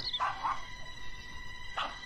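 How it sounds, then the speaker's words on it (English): Dog barking inside a pixelated horror video game: a few short yipping barks, two close together near the start and another a moment later, over a steady electronic hum with no talking. "Ba't tumatahol yung aso natin, man?"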